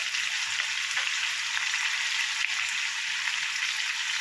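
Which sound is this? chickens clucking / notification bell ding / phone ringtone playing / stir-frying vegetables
stir-frying vegetables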